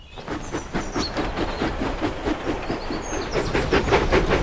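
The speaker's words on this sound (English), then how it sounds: "Thomas steamed quickly along the track." A cartoon steam locomotive chugs quickly along the track, with steady, evenly spaced puffs and a continuous mechanical rumble throughout, moderately loud and with no talking.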